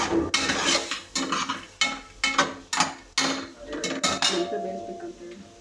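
Mutton mixed with turmeric in a metal pot, a spoon scraping and clanking against the metal in about eight rhythmic, close strokes, with faint talk in the background.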